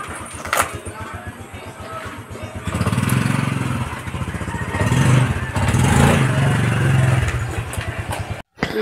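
Motorcycle engine running close by outdoors in Marinduque, a steady throbbing idle that swells louder and rougher partway through, with brief voices mixed in.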